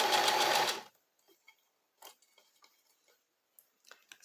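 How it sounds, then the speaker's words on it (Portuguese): A domestic sewing machine stitching knit fabric, with a loud mechanical burst at the start, then soft scattered ticks and clicks from the machine in a quiet room. "Só ir costurando."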